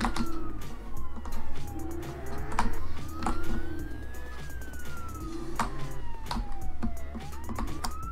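A police car siren in the Roblox game Jailbreak wails continuously with rising and falling sweeps, loud and close over the game's engine rumble and sharp effects.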